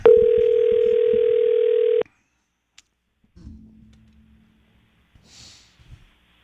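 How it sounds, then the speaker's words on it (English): Steady ringback tone of an outgoing phone call sounds loud and continuous for about two seconds, then cuts off, followed by faint clicks and low muffled handling noise. "Calling Seth Kushner"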